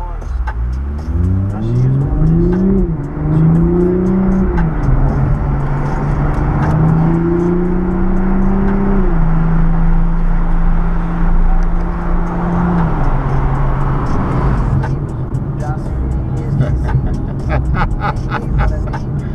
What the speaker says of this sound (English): And that exhaust is just crazy, man.